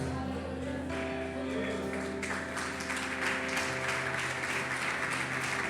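Church congregation applauding together, a steady dense wash of clapping with sustained organ or keyboard tones underneath, fairly loud and continuous.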